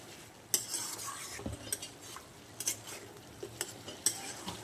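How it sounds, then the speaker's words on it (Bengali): Meat being slowly sautéed in a pan before pressure cooking, a soft sizzle punctuated by intermittent metal spoon scrapes and clinks against the pot, close but fairly quiet, without talk. "আর এখানেও এই যে মাংসটা কষানো হচ্ছে"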